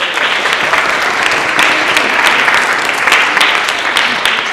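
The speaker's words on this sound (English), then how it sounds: "so you'd give her a big round of applause." An audience at a school district art show applauds, a dense, steady clatter of many hands clapping at moderate distance, sustained for several seconds without a break.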